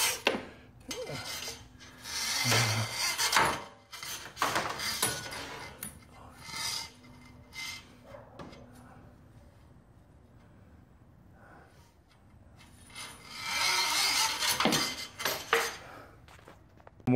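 Cables on a garage door torsion spring being unwound, giving rough rasping and scraping in uneven bursts, louder near the start and again near the end with a quieter stretch between.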